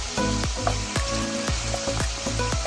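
Baguio beans frying in a hot pan with pork, a steady close sizzle with repeated stirring scrapes every half second or so, no voices.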